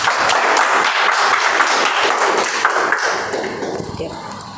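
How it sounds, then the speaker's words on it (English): Applause from a small Toastmasters meeting audience, a loud close burst of clapping that stays steady at first and then gradually tapers off. "Round of applause."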